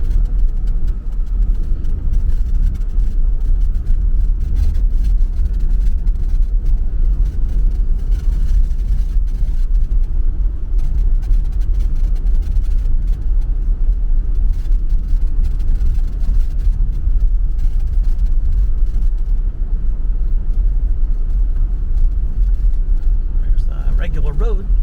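A brand new rental car driving off-road through a wildlife management area, its engine rumbling low and steady throughout, with people talking over the continuous drone.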